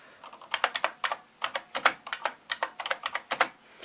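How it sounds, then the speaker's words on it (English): Clicky Unicomp buckling-spring mechanical keyboard typing with a buckling-spring snap, keystrokes arriving in quick irregular bursts, close and crisp with short pauses between runs. "Very satisfying to type on. The buckling springs."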